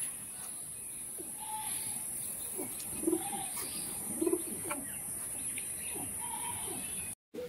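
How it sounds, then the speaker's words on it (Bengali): Male pigeon cooing nearby in low, soft repeated coos, with faint chirps and insect-like noise in a steady background hiss; a brief dropout near the end. "এটা হচ্ছে নর পায়রা"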